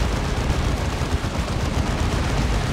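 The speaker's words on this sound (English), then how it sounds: "she's still firing her plasma pistol" Rapid, dense plasma pistol fire from the Warhammer 40k strategy game Dawn of War 2, a continuous crackling barrage of overlapping shots and blasts, loud and unbroken with no voices.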